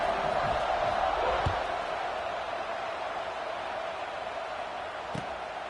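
A college football stadium crowd roars at a night game, a loud, steady wash of cheering that swells slightly at the start and then holds evenly throughout.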